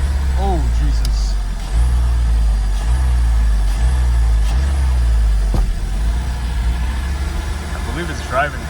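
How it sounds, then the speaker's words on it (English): A Porsche 986 with a cold-start problem drones steadily during a test drive, its low engine rumble constant throughout, with faint voice sounds at the start and end. "right now I'm taking it out for the test drive"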